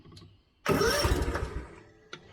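A Spartan zero-turn mower's engine starts at the press of a button. The starter catches abruptly, the engine roars loudly and close for about a second, then settles, and a short click follows.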